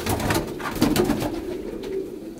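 Pigeons cooing steadily at a racing-pigeon breeder's loft in Faisalabad, soft repeated low coos overlapping throughout with no talk.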